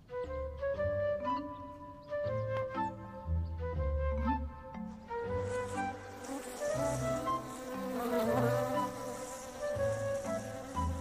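Cartoon bees buzz in a steady droning swarm, layered over bright musical tones in an animated scene, with no one speaking.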